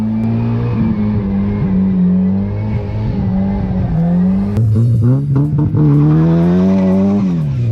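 A Mazda Miata drives hard with a loud engine revving up and down through the gears, tires squealing around corners, close up and continuous.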